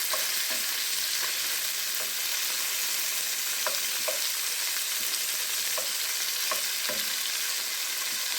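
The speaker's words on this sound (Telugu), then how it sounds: "టమాటాలు వేసా వేగుతున్నాయి" Tomatoes fry and sizzle in a pan for a Telugu celery gongura pachadi, a constant dense hiss with occasional small pops and stirring clicks, no talk.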